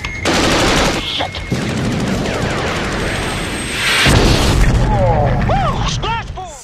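Missile launches and a heavy explosion from the 1986 film Top Gun, loud booming blasts and rushing bursts layered over continuous dense action-movie sound, with a voice speaking over it.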